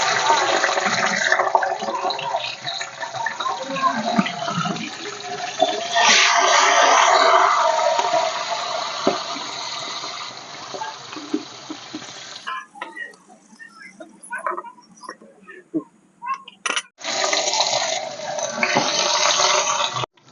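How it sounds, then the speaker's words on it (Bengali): Vegetables frying one batch after another in hot oil, a dense steady sizzle that drops out briefly near the end and then returns just as loud. "এইভাবে আমি একে একে সব সবজিগুলো ভেজে নেব।"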